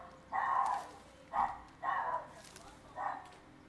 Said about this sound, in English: that sounds like a very unhappy doggy.